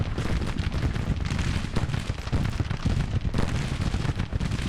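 Gunfire in the Grand Tactician strategy game, a Civil War cavalry battle defending Washington: a dense, continuous crackle of rifle volleys and distant booms that rolls on without pause, fairly loud and without talk.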